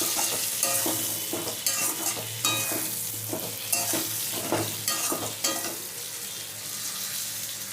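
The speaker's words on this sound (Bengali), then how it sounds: "জিরে গুঁড়ো ভালো করে পটলের সাথে মিশিয়ে নিলাম" Pointed gourd pieces coated in cumin and chili powder are stirred in a hot pan, a spatula scraping and turning them in bursts over a continuous oily sizzle.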